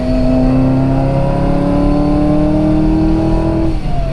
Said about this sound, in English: certainly the blower will start to make some noise, and the exhaust will make a little bit of noise